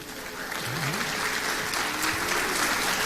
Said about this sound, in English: Clap him, clap him, clap him.